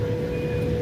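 A hay baler gives a steady, continuous electronic alarm beep while it ties off and wraps a bale, over a loud, constant hum of tractor machinery.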